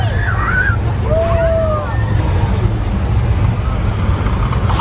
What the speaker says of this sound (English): flash flood on the left. Look out!